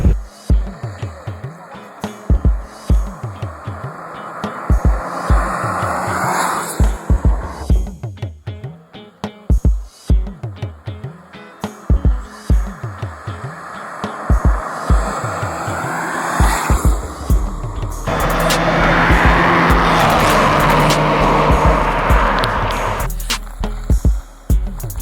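A 2008 Mazda 3 engine climbs repeatedly through the revs as it accelerates at speed, each rising pull broken by brief gear-change dips, loud and close over tire and road noise.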